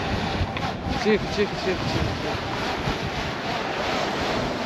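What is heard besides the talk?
wind blowing over the sea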